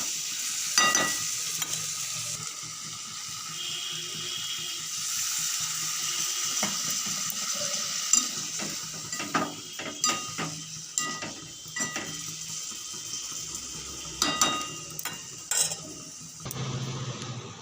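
A spoon scrapes and clacks through jackfruit curry with fried potatoes in a pan, irregular stirring strokes growing more frequent in the second half over a soft, low sizzle, close and with no voices.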